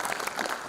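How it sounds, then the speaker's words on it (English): A festival audience in an auditorium applauds the volunteers: a brief, dense burst of clapping at a steady level. "I would like to applaud them for their help."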